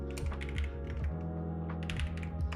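Rapid typing on a Mac computer keyboard, a steady run of close, clicky keystrokes with a low hum underneath and no speech.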